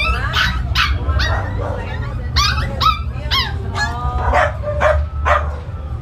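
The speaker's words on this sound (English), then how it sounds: "I think that's my dog." A new puppy barks and yips repeatedly at a breeder's place in Lembang, sharp close yaps in quick bursts over a steady low rumble of background noise.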